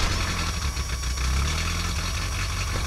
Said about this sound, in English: Just turn the key and the engine starts.